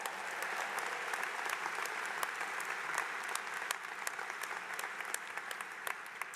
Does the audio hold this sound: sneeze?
no